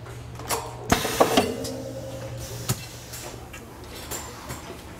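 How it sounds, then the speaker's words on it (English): Watering wand assembly machine pressing a female end and grip onto a wand in a factory, giving a few sharp mechanical clunks and ratcheting clicks over a steady low hum, then quieter intermittent taps. "we've got a machine that's actually going to put the different ends on the machine, on the wand"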